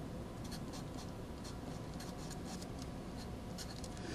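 A pen scratches across paper in short repeated strokes while lines are drawn for a geometry diagram, a soft steady scraping close to the microphone over faint background hiss.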